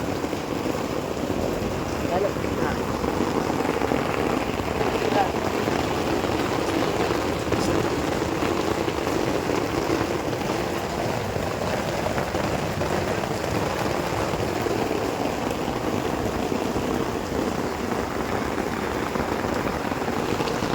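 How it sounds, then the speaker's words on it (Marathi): Heavy monsoon rain pouring outdoors before dawn where anganwadi workers sit in protest: a dense, continuous roar of downpour at steady loudness for about twenty seconds, with no pauses. "भर पावसामध्ये आता सध्या पाऊस एवढा जोरात चालू आहे"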